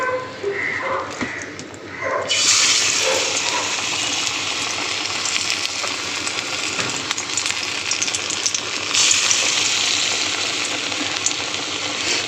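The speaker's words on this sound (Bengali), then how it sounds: "আমি এবার ডালটা বড়ার আকারে বড়া করে ভেজে নেব। তো চলো বড়াগুলো ভেজে নেওয়া যাক। তেল গরম হয়ে গেছে।" Bengali lentil fritters (bora) frying in hot oil, with a steady loud sizzle that swells after a few quieter seconds and keeps crackling close up without pause.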